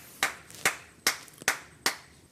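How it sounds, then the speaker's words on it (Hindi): On a reality TV show, five slow, separate hand claps ring out sharply and quietly, spaced almost evenly with near silence between them. "अपनी शक्ल भी देखिए और बजाइए तालियां"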